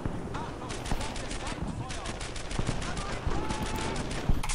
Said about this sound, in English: Hopefully they can shoot the fuck out of him before I do it.